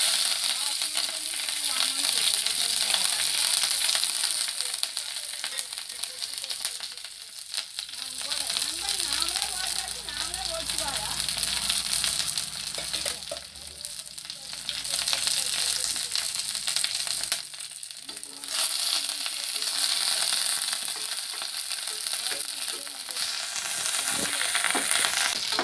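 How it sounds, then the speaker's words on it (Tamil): Sliced big onions, dried red chillies and curry leaves fry in oil after mustard seeds have popped, giving a loud continuous hiss and crackle with occasional stirring scrapes throughout. "இப்போ நம்ம கட் பண்ணி வச்சுருக்க பெரிய வெங்காயம், வரமிளகா, கருவேப்பிலை இதெல்லாம் போட்டுக்கலாம்."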